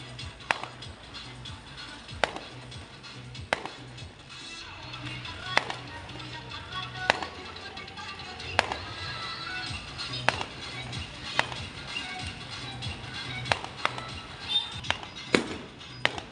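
Diwali firecrackers and fireworks burst at irregular intervals, some sharp cracks close and loud, others fainter and farther off, over a steady outdoor background hum.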